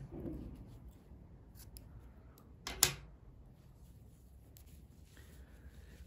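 A single quiet snip of scissors cutting knitting yarn at a collar edge, a brief crisp click standing out against a low steady room hiss with faint handling rustles.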